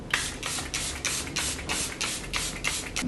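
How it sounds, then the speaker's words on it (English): Charlotte Tilbury setting spray misted over a face in a quick series of short hissing bursts, close and fairly soft, with no talking. "I'm gonna go ahead, you know, with my regular Charlotte Tilbury, spray my entire face just to calm down all the powders."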